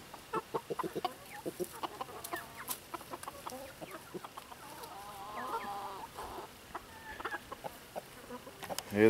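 Free-range chickens being let out of their coop, with busy clucking and short calls from several birds that come in quick irregular bursts and rise toward the end.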